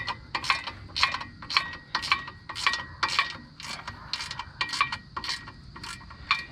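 A ratchet wrench clicks in quick bursts while tightening clutch pressure plate bolts on a Ford OBS truck, about a dozen close, crisp strokes in an uneven rhythm with no talk.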